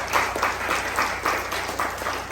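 Congregation clapping at a Church of Christ service in San Pedro, a steady wash of many hands pulsing in a loose rhythm for about two seconds, fairly close and moderately loud.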